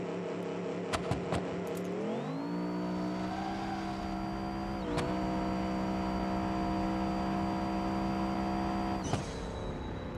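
A BeamNG.Drive drag car on nitrous launches and pulls at full throttle, its engine rising steadily in pitch through two sharp gear changes, loud and sustained with no talking.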